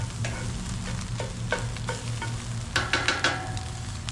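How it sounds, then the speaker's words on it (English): Food sizzles and burns in a very hot skillet over a campfire, with a steady frying hiss under intermittent scraping stirs that grow sharper toward the end. "this skillet gets very hot over the fire, so our stuff is burning"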